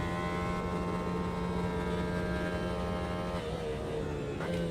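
A steady, high-pitched engine whine from a racing car in the video game Automobilista 2 holds and climbs slightly toward its limiter, with a brief dip near the end.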